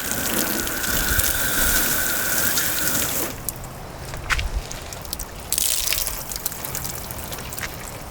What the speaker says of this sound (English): Water would never run off the truck like that before.